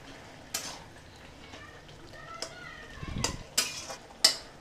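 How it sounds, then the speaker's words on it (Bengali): Shrimp and Malabar spinach curry with potato and pumpkin stirred in a pan over a high gas flame: faint background sizzle broken by a few sharp spoon-on-pan clinks and a brief scraping rustle. "ফ্লেম হাই থাকা অবস্থাতেই এইভাবে থেকে থেকে নেড়ে নিতে হবে"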